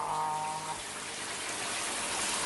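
Steady cartoon rain pours from a rain cloud as a dense, loud hiss of falling water, continuous and unbroken, following a brief tonal sound at the start; no talking.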